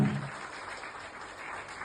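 An audience at an AWPL organization event in Kanpur applauding the chief guest, a continuous, moderately loud wash of clapping from a crowd that holds steady for the whole stretch, with no talk.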